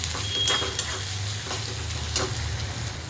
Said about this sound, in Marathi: टमॅटो पण टाकून घेऊया तेलामध्ये